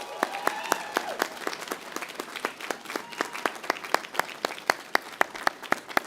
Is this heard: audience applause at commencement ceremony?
yes